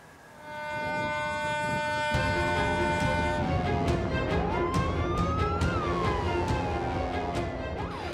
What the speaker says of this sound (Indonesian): Raungan sirine peringatan dibunyikan petugas Kementerian Kelautan dan Perikanan saat memergoki kapal pencuri ikan di Laut Natuna Utara.